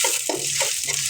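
Chopped onion, garlic and green chilli fry in a wok, a continuous sizzle broken by a few rhythmic stirring scrapes, close and fairly loud.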